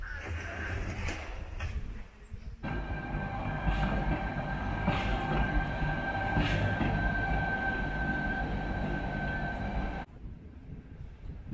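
A train rumbling along hill railway tracks up to Christ the Redeemer on a rainy, windy day, with a steady mechanical drone and a sustained high tone, moderately loud, fading abruptly near the end.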